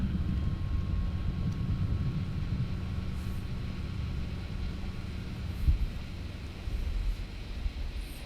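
Boeing 737 jet engine spooling up during an engine start, a steady low rumbling drone with a faint high whine, continuous and moderately loud throughout without speech.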